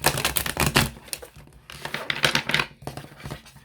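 Tarot cards are shuffled hard in quick, crisp riffling bursts, close up, with brief pauses between flurries of snapping and fluttering.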